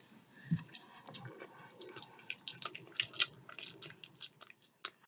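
Faint, close, wet chewing of mushy gum, with soft irregular squishy smacks and clicks of the mouth, alone without talk.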